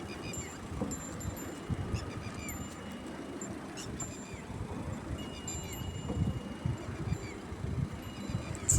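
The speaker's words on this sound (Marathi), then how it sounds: "पक्षी प्राणी ह्यांचा आवाज येतो मस्त" Goose-like honks and other bird calls come from outdoors, fairly distant and mixed with a low rustling background.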